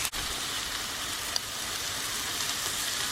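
Steak searing in a hot pan, a steady, faint sizzle and hiss throughout, with a brief click at the start and a small tap midway, no voices.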